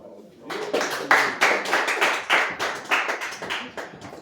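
A church congregation claps loudly after a baptism sermon, a brisk series of about a dozen sharp, fairly even claps building quickly and holding steady.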